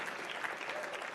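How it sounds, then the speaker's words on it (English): A conference keynote audience claps together in a brief, dense burst of applause lasting about a second. "a round of applause for starting later"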